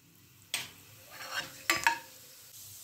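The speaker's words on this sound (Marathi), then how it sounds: "आता तेल तापलेले आहे, यामध्ये मोहरी घालूया, जिरे घालूया" Mustard seeds and cumin hit hot oil for tempering, giving a couple of sudden crackling sizzle bursts with spitting pops between quieter gaps, close and fairly soft.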